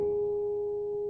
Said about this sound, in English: if we play this harmonic, that's what naturally exists there